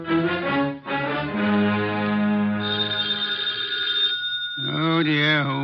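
A telephone bell rings in insistent bursts in a 1950s radio detective drama, loud and close, with a warbling musical tone overlapping toward the end.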